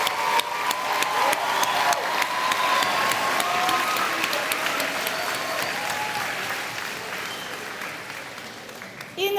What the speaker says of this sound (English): Can I have a round of applause to Mr. Hassam Halas, our Vice Principal, and all the student volunteers who helped.